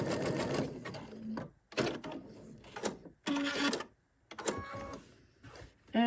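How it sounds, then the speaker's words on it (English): A sewing machine runs a zigzag stitch across scrap fabric in several close bursts, each whirring run broken by short pauses. "I put my machine onto a zigzag stitch, and I'm just using this scrap fabric just to give it a test"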